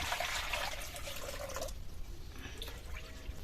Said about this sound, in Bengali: এবার মাপ মতো জল দিয়ে দেব।